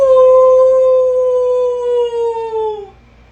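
A young voice imitates a wolf, holding one long, loud, sliding howl that slowly drops in pitch and fades out near the end.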